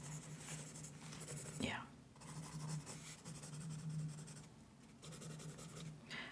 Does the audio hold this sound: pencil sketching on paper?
yes